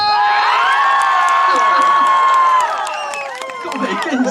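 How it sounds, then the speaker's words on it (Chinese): A concert crowd at an outdoor arts festival show in Qijin, Kaohsiung, screaming and cheering loudly for several seconds, dipping briefly and then rising again. "然后你们要尖叫声哦"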